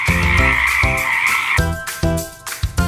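Frogs give repeated deep croaks in an even rhythm beneath a continuous higher trill that cuts out partway, close and loud, with no speech.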